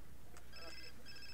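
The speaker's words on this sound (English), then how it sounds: "Oh, that's his phone." A phone rings in The Sims 4, a bright electronic trill sounding in two short repeated bursts over a low, steady background hum.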